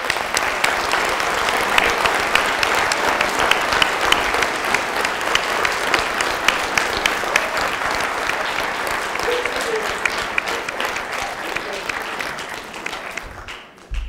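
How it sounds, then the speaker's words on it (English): A lecture audience bursts into sustained applause for a University of New Mexico professor, dense steady clapping filling the room from start to finish and thinning out only in the last second. "you started clapping before I prompted you"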